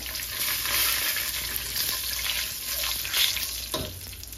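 Two or three dried red chillies and bay leaves sizzle in hot oil with a loud, dense, continuous crackle and hiss, close up, with faint stirring scrapes.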